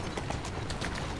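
Horse hooves clip-clop in Assassin's Creed Syndicate, a steady rhythmic trot of several muffled strikes over a broad game soundscape, with no talk.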